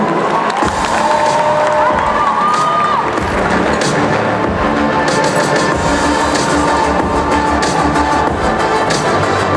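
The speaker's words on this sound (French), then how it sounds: "On l'applaudit bien fort, s'il vous plaît." Audience at the Geek Days Lille 2025 cosplay contest cheers and applauds, a loud, dense and continuous roar of clapping mixed with high shouts and whoops.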